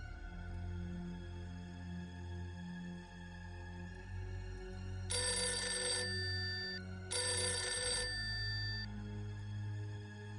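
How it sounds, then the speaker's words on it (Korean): A private telephone rings in living quarters at a US Navy base in Okinawa at 4 a.m., two bright rings over a steady low hum, clear and moderately loud, with no voices. "내 숙소 개인 전화가 울린 것은 지금이 처음이다."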